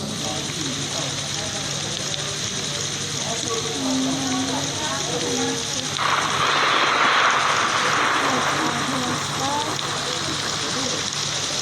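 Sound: airplane flying in a video game

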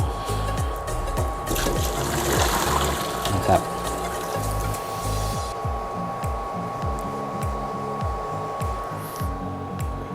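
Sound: hot water being poured away

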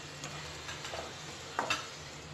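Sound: stirring spices into mushrooms cooking in a pan

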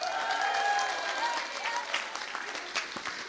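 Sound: audience applause

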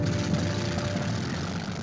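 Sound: Messerschmitt fighter aircraft flying in archival newsreel

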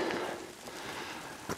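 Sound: rain

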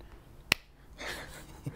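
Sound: hand clap to mark a recording

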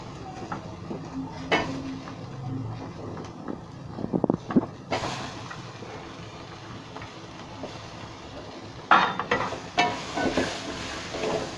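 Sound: shallots sizzling in a pan for chicken curry

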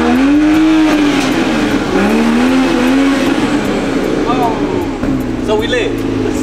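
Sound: car engine started and revving

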